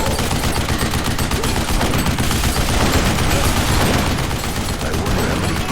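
Dense, continuous turret gunfire from Duke Nukem Forever, a loud sustained barrage of rapid shots with booming low end that holds steady for the whole stretch, with no voices over it.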